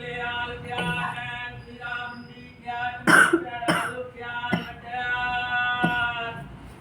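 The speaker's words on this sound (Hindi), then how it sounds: "एक तो वैसी खांसी है हमें।" Several sharp coughs burst out in quick succession, close and loud, over a steady tonal hum in the background.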